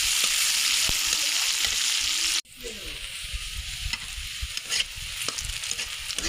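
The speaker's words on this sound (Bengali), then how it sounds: "নাড়া দেবো, ব্রাউন কালার হওয়া পর্যন্ত" Chopped onions sizzle loudly in hot oil in a pan, with a spatula scraping and stirring in irregular strokes; the hiss drops abruptly partway through, then stirring continues over softer frying.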